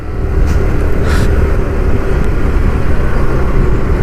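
A 2025 TVS Jupiter 110 scooter being ridden, its small engine giving a steady, loud close-up drone with road and wind rumble throughout, no one talking over it.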